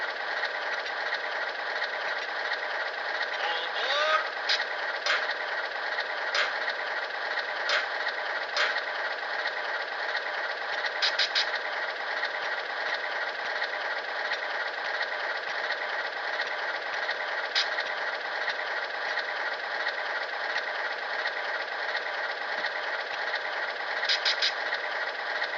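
A sound decoder in an Atlas RS-3 model locomotive plays its diesel engine sounds, a steady droning rumble with a faint rhythmic pulse, joined by occasional light clicks and short effects, quiet and continuous throughout.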